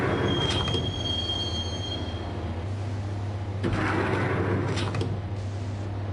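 Train rolling toward Roscoe Street Station in a video game, wheels squealing in a high steady whine over a constant low rumble, with a brief swell of rattling noise midway as the carriage rides on.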